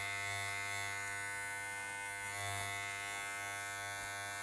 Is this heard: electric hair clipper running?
yes